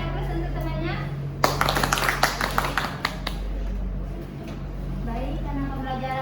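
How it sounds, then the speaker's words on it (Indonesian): Classroom applause for a classmate after a peer-teaching presentation, a burst of clapping from students lasting a few seconds over a steady hum, with children's voices talking before and after. "Berikan aplaus untuk temannya."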